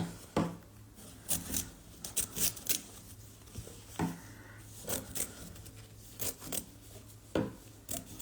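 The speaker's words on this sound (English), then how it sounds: "if you have a backing fabric, then cut it down to the hoop" Scissors cutting backing fabric down to fit an embroidery hoop: quiet, close snips and rustling fabric in short irregular bursts, with no talking.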